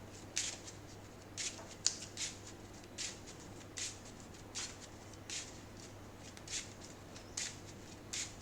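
Riffling and shuffling of playing cards from a Marvel Champions encounter deck, heard as about a dozen soft, brief papery bursts at a steady rhythm, close and quiet with no talking.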